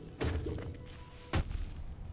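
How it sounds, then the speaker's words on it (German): Two muffled booming impacts, one early and one about a second later, like game explosions over a low background rumble, in Hollow Knight's Fog Canyon. "Die Explosion ist gewaltiger, als ich erwartet hätte."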